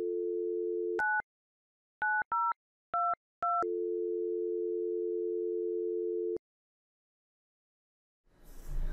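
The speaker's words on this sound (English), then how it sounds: "Secondary dial tone doesn't kick in until here, after the fifth digit has been dialed" A telephone line in an enterprise dial plan plays a steady dial tone, then five short DTMF digit beeps in an uneven rhythm. A continuous secondary dial tone follows and cuts off, leaving silence and a faint rustle at the end.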